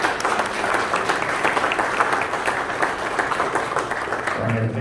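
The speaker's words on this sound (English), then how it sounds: "Let's give him a round of applause." Applause from a conference audience welcomes a speaker at a church theology session, a full, continuous round of clapping that holds steady before fading toward the end.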